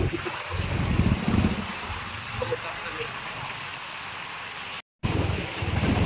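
Motorcycle ridden through shallow floodwater, with steady broadband water splashing and a low engine rumble close by throughout, briefly cut out near the end.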